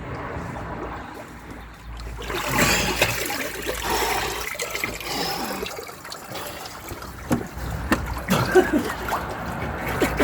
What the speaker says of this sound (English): Now I'm going to submerge my head for the first time.